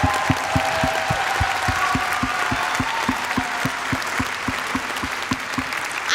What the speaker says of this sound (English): How about another round of applause for our second graders?